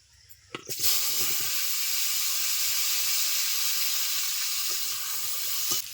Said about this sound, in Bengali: ধুয়ে রাখা আলুগুলো মাছ ভাজার তেলের উপরে দিয়ে দিচ্ছি